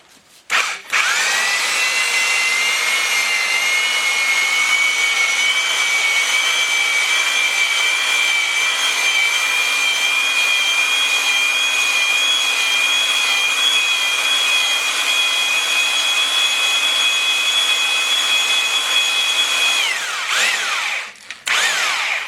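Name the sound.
honing a Willys L-head engine block's cylinders with oil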